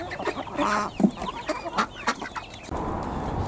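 Chickens and ducks on a smallholding cluck and squawk close by after feeding, a few sharp calls early on, then a softer rustling background.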